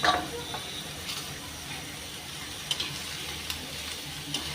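Onions frying in oil in a pan while cooking paneer do pyaza, a steady soft sizzle running throughout with a few faint clinks of stirring.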